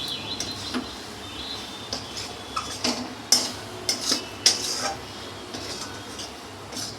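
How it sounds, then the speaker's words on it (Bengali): Raw mango pickle with salt is stirred in a pan, making a string of clinking, scraping spoon-on-metal knocks at an irregular rhythm over a quiet, faint sizzle. "নুনটাকে ভালো করে মিশিয়ে নেব।"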